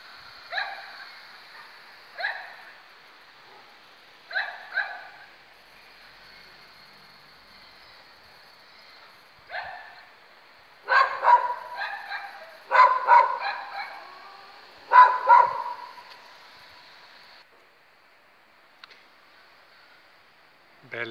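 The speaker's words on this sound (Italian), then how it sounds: "Ci sono anche dei cani che abbaiano." Dogs bark in short scattered bursts across the old centre of Giazza, a mountain village in the Lessinia, some distant and some closer, echoing in clusters with quiet gaps between.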